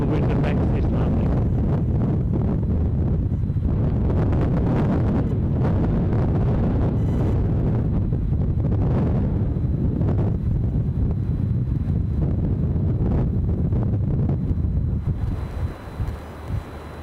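Strong wind buffets the microphone at Edinburgh Airport, giving a loud, continuous roaring rumble that lasts nearly the whole time before easing slightly at the end.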